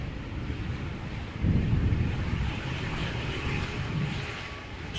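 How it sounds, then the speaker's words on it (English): A KLM Boeing 777-200 airliner lands at Amsterdam Schiphol in a crosswind, its engines giving a low, steady roar that swells after the first second and then holds over constant wind noise, with no voices heard. "in the background we have KLM flight 744, which is a 777-200 arriving from Lima in Peru"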